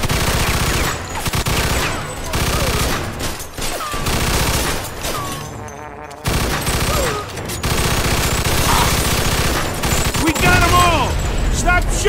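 Dense gunfire from the Mafia II video game, with rapid bursts and shots crackling nearly nonstop, loud and close, under shouted voices, with a brief lull near the middle before the firing resumes.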